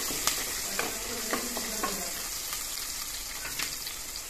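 Chopped onion and a green chili fry in a pan with cumin as they are stirred, giving a steady soft sizzle broken by light scraping strokes and occasional taps of the spoon.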